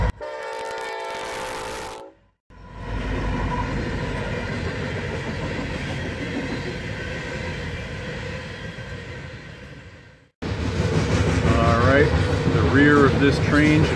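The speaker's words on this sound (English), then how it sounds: "Here comes a Union Pacific unit train. It's got two head locos and there's a helper locomotive at the tail." A Union Pacific unit train in Nebraska, with two head locomotives and a helper locomotive at the tail, rolls past with a sustained rumbling roar of engines and wagons, opening with a loud horn blast.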